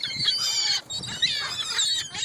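A swarm of seagulls at the beach gives loud, dense, overlapping squawking calls that continue almost without a break and dip only briefly partway through.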